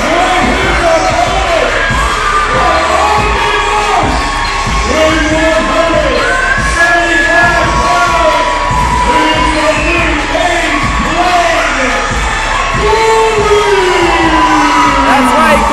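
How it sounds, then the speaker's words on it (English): A sold-out crowd at a professional wrestling show cheers, whoops and bellows continuously as a wrestler makes his way to the ring, a dense, loud roar filling the arena throughout. "Can you hear this capacity? Sold out crowd."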